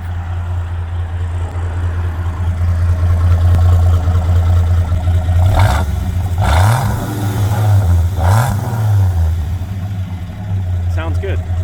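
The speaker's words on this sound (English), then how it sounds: "Oh, I want to hear the exhaust." A 1974 Dodge Dart with its Slant 6 engine runs at idle with a low, steady exhaust rumble, swelling in a few brief revs near the middle, while people talk nearby.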